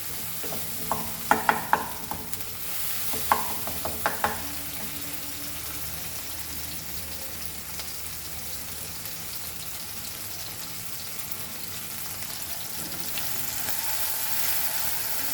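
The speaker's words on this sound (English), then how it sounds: "Take little bit of oil and fry your fish both the side, flip flop" Fish frying in a little oil for Goan curry, giving a steady sizzling hiss throughout, with a few clinks and scrapes from stirring or flipping near the start.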